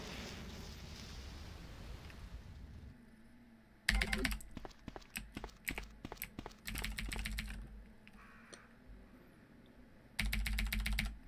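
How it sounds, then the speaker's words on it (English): Rapid keyboard and mouse clicking from PC play of Resident Evil 2 comes in close, crisp bursts, alternating with quieter gaps over a low background hum. "I also apologise for the amount of clicking that you will hear during the game"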